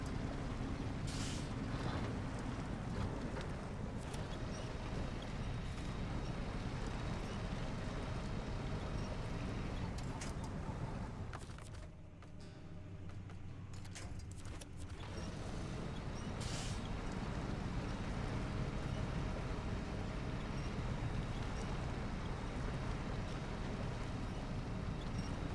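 A truck engine in the PS5 game Truckball, driving on muddy ground, drones as a loud, steady, rumbling roar throughout, dipping briefly in the middle before surging back to full strength.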